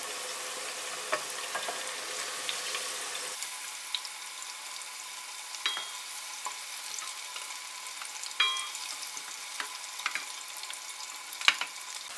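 Minced meat sizzles steadily in a hot pan, with occasional pops and the scrape of stirring.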